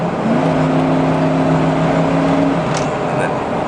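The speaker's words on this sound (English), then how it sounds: "I'll hammer down on here a little bit so you can hear it kick down right now." Inside a truck under hard acceleration, the engine revs with a loud, steady drone as the transmission kicks down, with a whining note rising and then holding.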